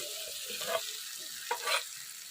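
Oil sizzles steadily in a pan while fried potatoes and peas are stirred and tossed, with a few brief louder scrapes and clatters over the hiss.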